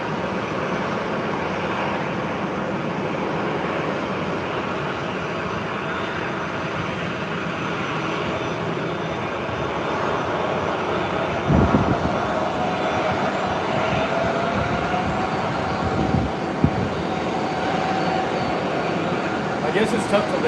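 A steady, broad roar of jet aircraft at San Diego Airport at sunrise, planes taking off and landing, holding a constant rumbling wash throughout with a few brief louder swells and bumps near the end.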